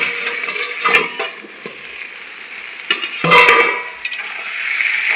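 Soybean and potato curry sautés in a pan with the lid just lifted, a steady close sizzle broken by a few louder scraping stirs of the spoon.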